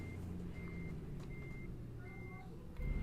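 A truck backs up to park a trailer in American Truck Simulator, its repeated reversing beeps pulsing at a steady rhythm over a low idling engine rumble, with a louder burst of engine near the end.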